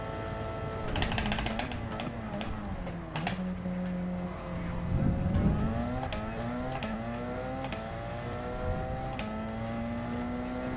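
A race car engine in Gran Turismo 7 at Fuji revs high and holds steady, with its pitch dipping and climbing through gear changes. A few sharp clicks and bumps sit over the sustained engine tone.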